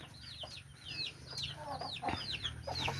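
Several chickens clucking and chattering together at moderate distance, a busy overlapping flock sound over a low background hum.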